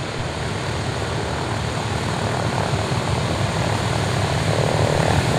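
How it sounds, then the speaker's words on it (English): A Boeing B-17 bomber flies a display at the Duxford air show, its piston engines and propellers producing a loud, sustained drone that swells slightly toward the end. "second chance to see the B-17"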